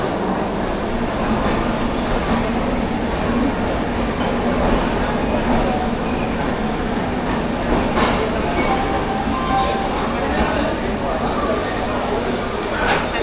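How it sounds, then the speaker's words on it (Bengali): A train pulling out of Bilaspur station, heard from aboard as a steady broadband rumble and rolling noise that continues throughout with some faint background voices. "3 মিনিট লেট করে ট্রেনটা বিলাসপুর স্টেশন থেকে ছেড়ে দিয়েছে।"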